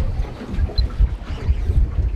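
A 14-knot northwesterly wind rising over the water on a fishing trip, a loud gusty rumble buffeting the microphone with low surging pulses throughout.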